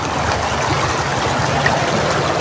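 Constant rushing and burbling of flowing river water, steady and close, filling the whole moment without voices.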